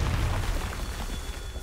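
A Confringo blasting spell explodes in Hogwarts Legacy, a loud, dense boom with a rumbling low end that fades steadily over a second and a half.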